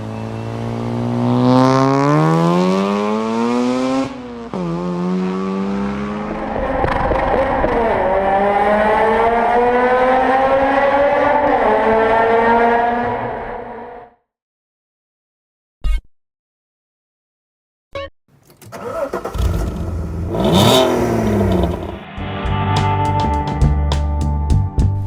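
A Mazda RX-8 sports car with a Wankel rotary engine revs hard through rising gear pulls, its buzzy, smooth tone climbing loudly, then falls silent briefly before roaring and revving again close by.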